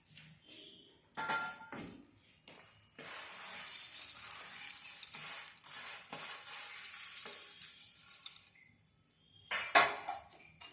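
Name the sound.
mixing namkeen in a pan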